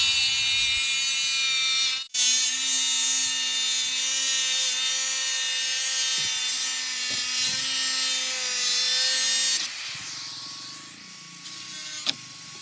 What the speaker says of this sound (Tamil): இப்போ லைன் போட்டதெல்லாம் நம்ம கட் பண்ணி எடுத்துப்போம்.